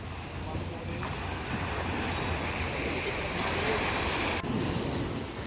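Sea waves wash in steadily at Cherai Beach at night, a continuous broad surf roar with some wind buffeting the microphone, swelling slightly before easing off.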